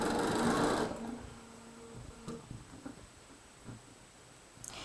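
Sewing machine stitching across a quilt block seam, a close whirring burst at the start followed by quieter intermittent mechanical clicks and rattles with a faint steady whine.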